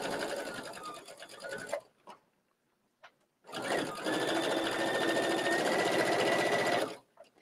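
A sewing machine stitches fleece gator masks with pink thread, running in a loud, close, continuous whir, stopping briefly, then starting again for a longer steady run.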